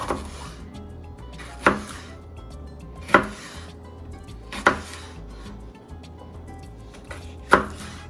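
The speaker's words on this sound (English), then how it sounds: "I'm gonna be cutting the red pepper vertically long." A knife slices a washed, seeded red pepper lengthwise on a cutting board, five sharp chops landing roughly every one and a half seconds, close and clear with quiet gaps between.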